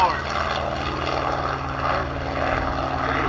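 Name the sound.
airshow aircraft engine and propeller roaring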